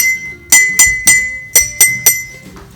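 Glasses partly filled with water are struck like a xylophone, giving six bright, ringing clinks in an uneven rhythm. Each tap is close and loud and decays with a sustained tone.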